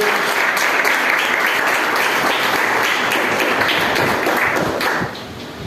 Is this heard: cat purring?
no